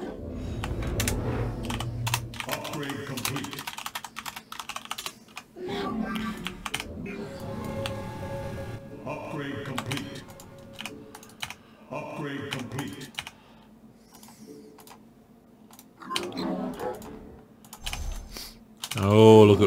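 Rapid clattering keystrokes on a computer keyboard come in bursts during a StarCraft-style game, close and crisp, with a person talking intermittently between the typing runs and a louder thump near the end.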